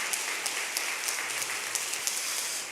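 A church congregation applauds to welcome new members at a Korean Sunday service, steady clapping from many hands throughout, moderately loud and even, with no voices.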